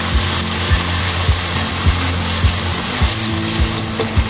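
Ginger-garlic paste sizzles loudly in a frying pan for Sindhi biryani, a dense continuous hiss close up with a regular low thudding pulse underneath.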